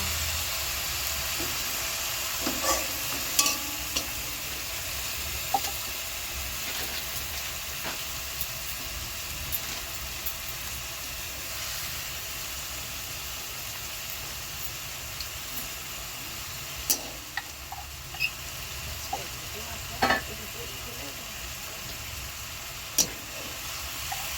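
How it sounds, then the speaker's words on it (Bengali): Chopped onion fries in a pan while being stirred, producing a low, steady hiss with scattered light scrapes and taps of the spoon, no talking. "কুচনো পেঁয়াজটি দিয়ে নিলাম, এবার ভালো করে নাড়াচাড়া করে নিচ্ছি"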